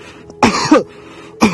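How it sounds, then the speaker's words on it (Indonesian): Two forceful deliberate coughs during a proning breathing exercise for Covid-19, one sharp burst followed by a second, with another starting at the very end, close and loud. "Kemudian kita sengaja batukkan."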